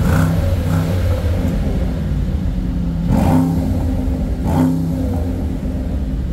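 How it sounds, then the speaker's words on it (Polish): A Mercedes-AMG GT 63 Coupe engine idles in Sport Plus mode with a deep burbling rumble, then revs sharply twice, each blip rising and falling quickly. "od razu słychać zmianę dźwięku silnika"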